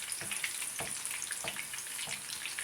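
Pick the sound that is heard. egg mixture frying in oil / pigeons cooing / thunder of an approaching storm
egg mixture frying in oil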